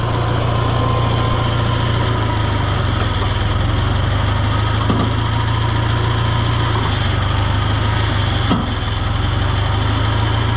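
A tractor engine idles steadily and loudly at close range, a continuous low rumble with no talk over it.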